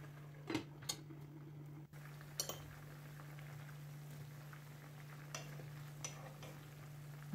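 Fried potato pieces tipped into a kazan cooking pot for kondyube, giving a few soft clinks and scrapes over a steady low hum, with quiet gaps between the knocks.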